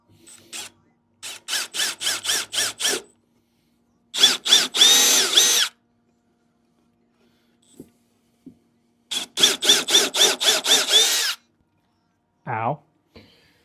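A power drill drives screws into a wooden birdhouse kit, with three clusters of short, close whirring bursts and a single brief whine near the end.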